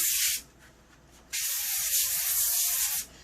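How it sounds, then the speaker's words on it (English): An aerosol can of olive oil spray hisses onto parchment paper in two bursts, a short one and then a longer steady spray, close and clear with no talking. "we're going to use this olive oil spray. And we're just going to coat the parchment paper"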